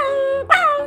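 A dog yelps sharply after being struck by a tossed piece of roti at a roadside dhaba, a short high whimpering cry breaking through a steady tonal background.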